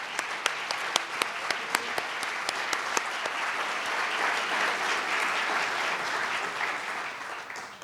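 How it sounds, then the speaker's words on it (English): An audience at a business and community awards event gives chamber board members a round of applause, a dense steady clapping that carries on for several seconds, with a few sharp nearby claps standing out early on. "please stand so we can give you a round of applause"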